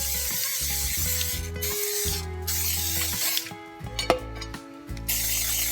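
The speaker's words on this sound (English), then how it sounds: "that does happen sometimes with coconut oil spray" A can of coconut oil cooking spray sprays in several sharp hissing bursts during home bread baking, set against a steady tonal background with light kitchen clatter.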